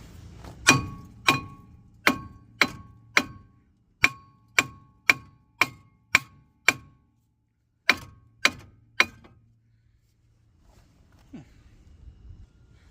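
A hammer strikes a Kia Soul brake rotor with sharp metallic whacks, about a dozen in a steady rhythm, then a short pause and three more, each with a bright ringing tail.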